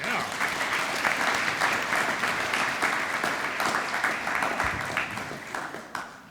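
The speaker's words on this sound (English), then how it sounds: "Please give them a round of applause." Round of applause from an audience at a university senior breakfast event, a full steady burst of many hands clapping throughout, fairly close and even in loudness.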